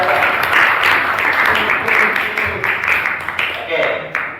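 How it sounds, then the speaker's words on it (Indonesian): Classroom applause during a teaching session, a loud, steady rattle of many hands clapping together for about four seconds, with faint voices underneath. "tepuk tangan luar biasa"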